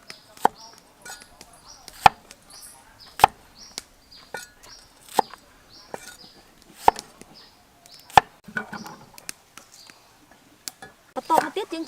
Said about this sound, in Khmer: បន្តមកទៀតយើងហាន់ខ្ទឹមក្រហម